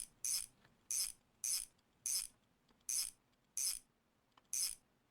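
A wheel is bolted onto a heavy duty hub in a garage video game, seven crisp ratcheting bursts at a steady, even rhythm, close and clean against a quiet background.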